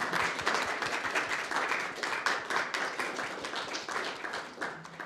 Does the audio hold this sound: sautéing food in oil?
no